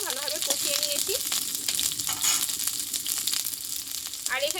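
Potato and cauliflower pieces sizzle steadily in hot oil, a close, continuous frying hiss with faint bursts of a voice talking briefly at the start and end.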